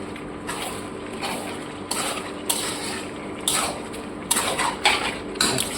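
A spoon stirs Madras-style chicken curry with kasuri methi in a pot, giving repeated scraping clinks of metal against the pot at a steady, irregular pace, close and moderately loud.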